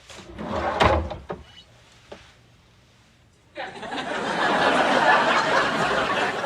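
A drawer slides open and shut indoors, with a couple of bumps and a brief rattle, then a broad, steady shuffling rush takes over; voices and a chuckle come through at the start.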